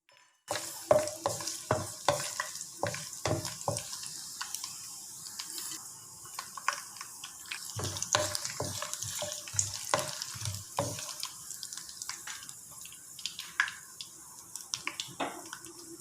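Whole spices and aromatics such as ginger and pandan leaf frying in hot oil for mutton curry, giving a crackling sizzle broken by repeated clanks and scrapes of stirring.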